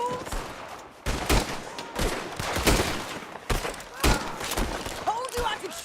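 A Red Dead Redemption 2 shootout, with heavy gunshots cracking in irregular volleys, some bursts close and loud with sharp impacts, others more distant, while voices talk between them.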